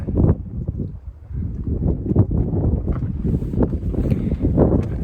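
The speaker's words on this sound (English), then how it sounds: "getting a little windy, so we got some wind." Gusty wind on the summit of Mount Tamalpais buffets the microphone with low, rumbling blasts that rise and fall continuously, loud and close.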